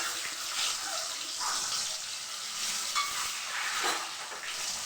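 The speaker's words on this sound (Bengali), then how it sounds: "তেলে আমি ডিমগুলো দিয়ে দিলাম একে একে" Eggs frying one by one in hot oil, a continuous, even hiss and spatter heard close up for several seconds with no voices.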